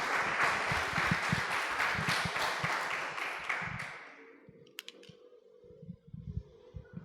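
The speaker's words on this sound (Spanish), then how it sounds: "les damos a ellos, a los que están en sus casas, que quisieran estar aquí, un fuerte aplauso también" Church congregation applauding during a Sunday service: sustained dense clapping for about four seconds, then fading into scattered claps and a quieter room.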